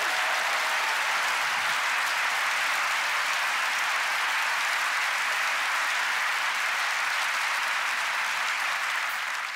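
A cabaret audience gives the house band a steady, dense wall of applause that holds at full strength throughout, heard from within the hall.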